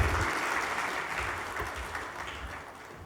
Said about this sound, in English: I don't feel comfortable when they clap for me